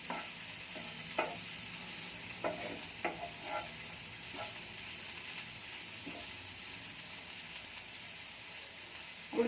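Carrot and bean palyam sizzles steadily in a pan while a spoon stirs it, with soft scraping clinks at irregular intervals over the constant frying hiss.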